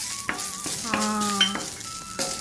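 Curry leaves roast in a pan with a soft, steady sizzle, joined by brief tonal squeaks or scrapes.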